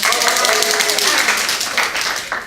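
An audience at a training event claps briefly, a dense burst of applause that tapers off over a couple of seconds, close and fairly loud.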